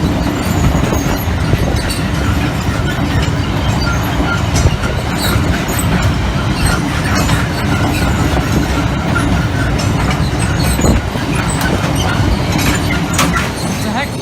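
A Class 66 freight train bound for a power station passes a level crossing at night near Doncaster, a loud continuous rumble and clatter of wagons with wheel squeal, faint voices underneath.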